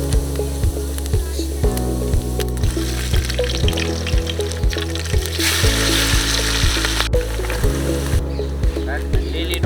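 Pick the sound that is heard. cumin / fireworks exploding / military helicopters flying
cumin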